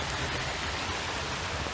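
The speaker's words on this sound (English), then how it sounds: "The rain is very big" Heavy rain pours steadily over a hiking trail up Victoria Peak in Hong Kong, a loud, dense hiss of drops hitting foliage and ground with no voices.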